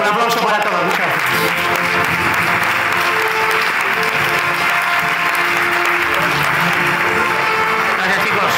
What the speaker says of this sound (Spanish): Un aplauso para todos, muchas gracias.